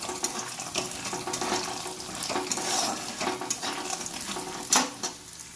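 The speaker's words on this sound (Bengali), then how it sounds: "কড়াই তেল গরম হয়ে গেছে দিয়ে দেবো বড়িগুলো বড়িগুলো অল্প অল্প হালকা হালকা ভেজে নেবো" Lentil dumplings (bori) fry in hot oil in a wok, a steady crackling sizzle with scattered pops and one sharper burst near the end.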